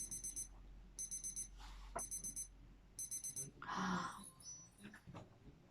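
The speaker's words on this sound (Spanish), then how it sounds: "Ese es el sonido de la alarma del reloj que nos está indicando que ya es hora de" An alarm clock rings in repeated bursts of rapid high beeping, four groups separated by short pauses, with a brief burst of other noise between them.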